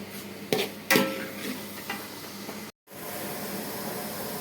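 Pineapple stirred in hot oil in a pan while cooking pachadi: a steady sizzle under a few sharp scraping strokes early on, then continuous frying hiss after a brief cut.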